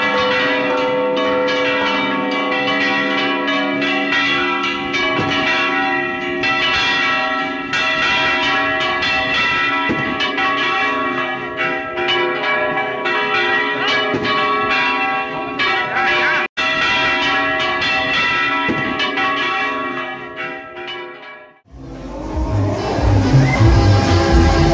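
Parish church bell ringing continuously for about twenty seconds, a loud, resonant, overlapping peal with rich ringing tones, which then cuts off abruptly into other noise.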